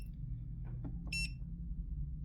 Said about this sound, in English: You can adjust this beeping sound